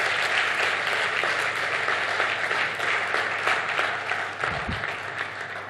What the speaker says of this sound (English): Can we just give him another warm applause?